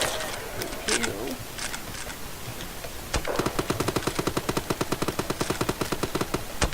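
Rapid video game shotgun fire, a dense run of evenly spaced sharp shots in the second half after a few scattered bursts earlier, with faint game ambience underneath.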